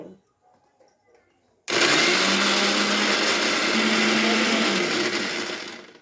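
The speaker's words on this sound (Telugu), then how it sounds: "ముందుగా టమాటా మిక్సీ పట్టుకుందాం." Tomatoes are blended in a kitchen mixer grinder: after a brief quiet start the motor switches on with a loud, steady whirring roar that runs continuously close up and eases slightly near the end.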